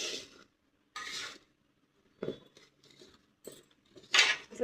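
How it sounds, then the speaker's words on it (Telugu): Garlic paste being stirred into avakaya mango pickle, giving short bursts of scraping and clinking from a spoon against a pot, separated by pauses and fairly close. "ఎల్లిగడ్డ ముద్ద మంచిగా కలుపుకోవాలి."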